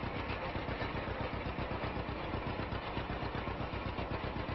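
A John Deere A tractor engine in Farming Simulator 25 runs steadily with a rapid, even low putt-putt throb, close and constant throughout, no talking.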